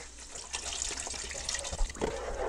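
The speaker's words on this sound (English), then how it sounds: "let's pour in this vegetable stock" Vegetable stock pours from a container into a pot of vegetables and tomato paste, a steady splashing liquid stream with small gurgles, close and moderately loud with no talk.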